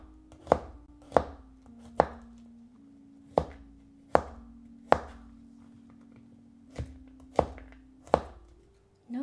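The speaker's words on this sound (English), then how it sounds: "We'll just mince the garlic." A knife minces garlic on a cutting board in about ten sharp, close chops at an uneven pace, each a crisp knock with short pauses between, with no talking.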